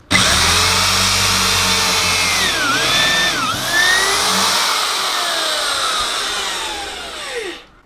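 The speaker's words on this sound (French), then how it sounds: "Je fais mon premier perçage d'un diamètre 4 et là je traverse complètement la pièce." A power drill bores a 4 mm hole clean through a piece of wood, a loud steady whine that dips in pitch mid-way as the bit bites, then winds down at the end; no talking.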